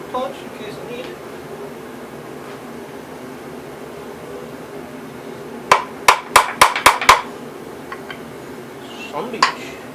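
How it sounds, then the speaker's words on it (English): A small hammer striking a punch on a Gravely tractor frame: a quick burst of about six sharp metallic clanks in steady rhythm, then one more strike later, close by, with faint talk and workshop noise in between. "Small hammer and punch in case I need it."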